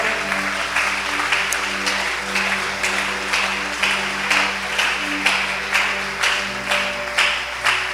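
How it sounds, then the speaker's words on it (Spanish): A church congregation claps together in a continuous, lively burst with a loose, recurring rhythm, filling the room at fairly close range. "Alguien que aplauda al Señor."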